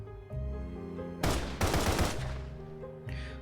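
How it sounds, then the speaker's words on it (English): Gunfire in the video game Path to Nowhere: a dense, loud fusillade of rapid shots erupts for about a second over a sustained musical backdrop, then fades back to the music. "They hear a hail of gunfire and screams outside the door, followed by silence."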